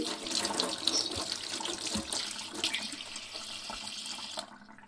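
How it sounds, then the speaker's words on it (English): Water gushes from a kitchen tap in the video game Paranoiac, a close, steady splashing stream filling a sink for several seconds before cutting off abruptly, with no voices. "Going to the kitchen to get some water."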